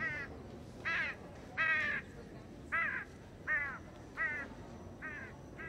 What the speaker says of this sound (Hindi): कौआ।